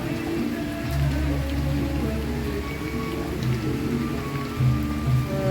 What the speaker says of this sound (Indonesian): Udah hujan.